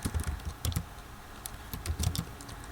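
A terminal command is typed on a computer keyboard: fast, irregular clusters of close keystrokes and clicks, with brief pauses between bursts and no speech.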